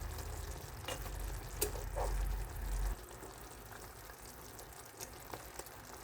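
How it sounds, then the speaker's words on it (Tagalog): A steady bubbling simmer of chicken in a pan, a continuous soft sizzle with occasional small pops and a low rumble that drops away partway through. "At hayaan lang natin itong kumulo."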